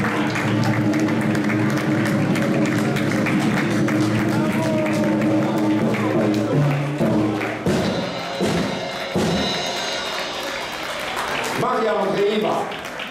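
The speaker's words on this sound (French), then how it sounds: "On peut l'applaudir très fort." An audience claps loudly to welcome pianist Maria Andreeva aboard the Club Med 2 ship, a dense stretch of applause that thins out and fades while a host speaks over it.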